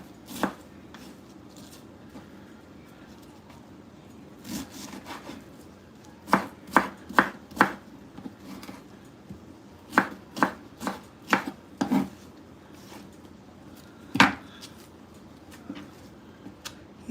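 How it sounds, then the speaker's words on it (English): A knife dices cabbage on a board in a home kitchen, with sparse early cuts giving way to bursts of sharp, close thuds in quick clusters and pauses between, no talk. "All I'm doing is dicing the cabbage"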